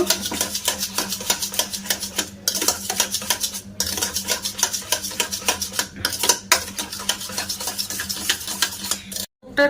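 Sour curd is whisked briskly in a bowl, a fast rhythmic clinking and scraping of utensil against the bowl that keeps going with a few short pauses, close and fairly loud, with no talking.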